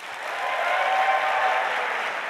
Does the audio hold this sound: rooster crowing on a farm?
no